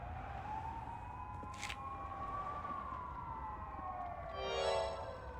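Police sirens sound in the video game PARANORMASIGHT, with a steady wailing tone sweeping up and down at moderate loudness against a faint background.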